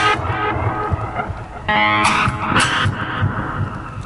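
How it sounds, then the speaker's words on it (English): An electric guitar chord soaked in flange and delay swirls and shimmers continuously, with sweeping phased tones and a rumbling low end. "because it's got a lot of flange on it and some delay too"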